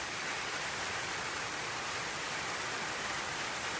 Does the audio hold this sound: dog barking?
no